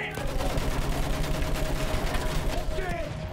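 Dense gunfire and explosive battle noise from the Battlefield 1 campaign mission "Storm of Steel", a continuous loud fusillade with a steady tone running through it and little letup.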